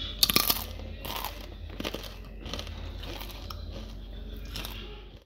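Crisp bites into thin, crunchy fried tempe chips, a loud crack at the start followed by several lighter crunches and chewing close up.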